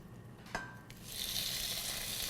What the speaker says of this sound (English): we need to hear that famous fajita sizzle